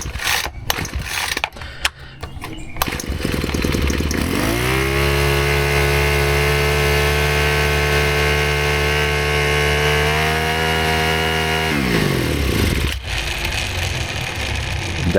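Ryobi S430 4-cycle string trimmer engine catches after a few rattling pull-cord starts, runs loud and steady for about eight seconds, then dies away abruptly.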